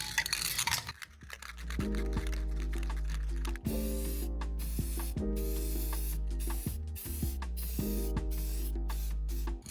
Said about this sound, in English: I am going to spray paint these because some are just really tarnished